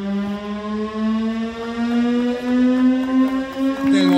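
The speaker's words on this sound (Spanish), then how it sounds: "Este es el bombero cuando suena la sirena." A fire station siren at the volunteer fire brigade of Carlos Paz sounds during the brigade's 55th anniversary ceremony: a steady, loud, rising wail with rich harmonics that holds throughout, with no talking.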